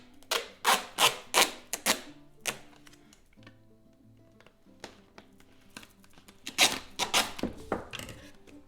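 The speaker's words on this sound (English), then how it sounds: "So I'm just gonna cut a piece here." Duct tape is pulled and cut by hand while sealing a DIY winter-sowing seed container. It comes as a run of sharp, close ripping and snipping bursts, a quiet pause with faint handling, then another cluster of crisp tears.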